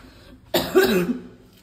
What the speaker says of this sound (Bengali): কতটা কাশি হয়েছে দেখছো।